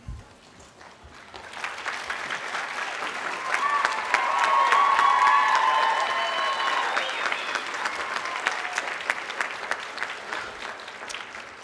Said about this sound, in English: I will ask the graduates to stand and applaud their faculty one last time.